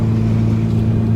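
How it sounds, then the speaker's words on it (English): Steady low road rumble inside a moving 2006–2011 Honda Civic Si, a loud, constant drone filling the cabin with no speech. "Sorry for the road noise, by the way"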